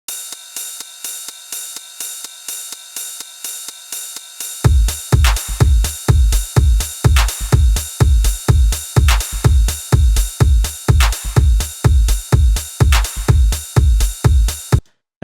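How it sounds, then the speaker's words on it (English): A 909 closed hi-hat ticks a steady eighth-note pattern in Ableton, alone at first, then joined by a washy techno ride and a deep kick pulsing on every beat, all loud and tightly looped. "I'm just going to have that playing an eighth note pattern"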